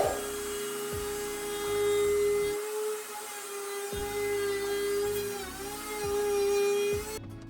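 A high-pitched power tool, likely a router, whines steadily while cutting a slot in the top of a wooden board for a mirror frame, with short pauses and repeated cutting passes, loud and close.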